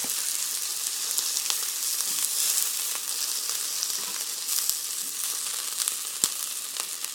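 A fatty ribeye steak searing in a hot pan, giving a continuous close hiss and crackle of fat with scattered small pops and one sharp tick near the end, no voices.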